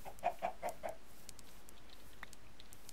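A quick run of four or five Minecraft chicken clucks right at the start, then quieter ambience with a single faint cluck later on.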